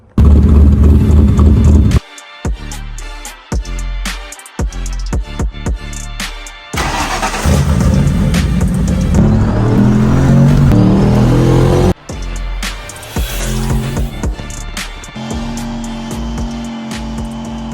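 A car engine on two-step launch control revs and crackles with sharp, popping exhaust bursts in rapid bursts, loud and close, with the engine settling into a steady rumble between revs.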